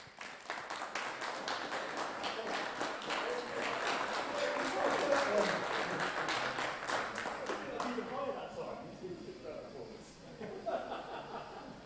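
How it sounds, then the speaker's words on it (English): Applause and clapping from an audience at a DTM championship event, steady and fairly loud across the clip before thinning out near the end, with scattered chuckles and voices mixed in. "a huge round of applause for your 2020, we'll call it, championship DTM winners"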